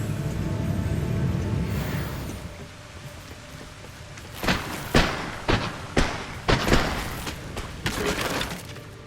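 Fiery Confringo blasting spells strike in a mine in Hogwarts Legacy, landing as a quick run of five or six sharp, crackling bursts that hit close and loud after a rumbling lead-in.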